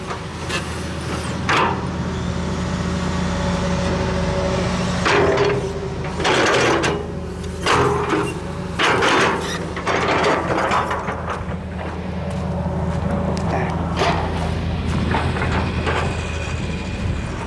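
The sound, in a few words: heavy machinery working at an agricultural site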